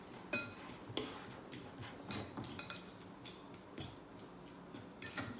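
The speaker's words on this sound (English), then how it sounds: "I'm gonna mix this and mash this nice and fine." Diced avocado being mixed and mashed in its skin for guacamole, giving soft, close, irregular scraping and tapping strokes of a utensil at a steady working rhythm.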